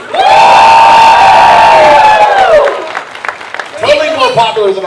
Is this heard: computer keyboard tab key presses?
no